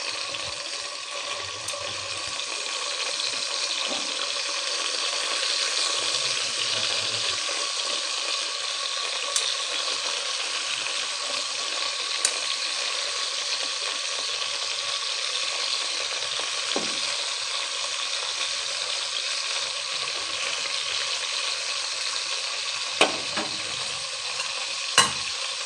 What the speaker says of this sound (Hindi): अब इसको हम फ्राई कर लेते हैं।